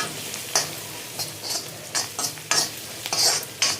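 Garlic and turmeric frying in a pan, a low background sizzle broken by repeated scraping stirs of a spoon against the pan at an irregular rhythm, close and alone.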